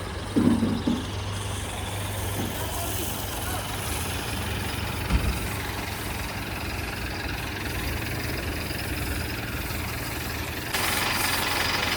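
A tractor's diesel engine idles steadily with a low, rumbling throb, running continuously near the microphone while faint knocks and clanks break through now and then.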